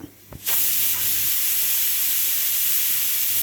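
A pressure cooker on the stove, cooking for Kerala ada pradhaman kheer, lets out a sudden loud, continuous hiss of escaping steam that starts abruptly and keeps rushing steadily to the end, close and alone.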